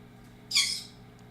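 A pet bird gives a single short, harsh squawk, sharp and fairly close, over a quiet indoor background hum.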